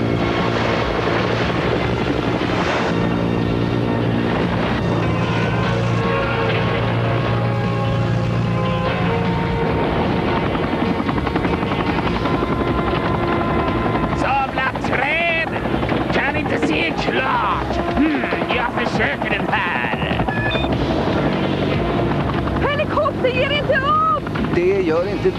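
Animated spy cartoon helicopter carrying heat-seeking missiles, a loud continuous rotor roar with a droning engine underneath, layered with music and voices talking over it throughout.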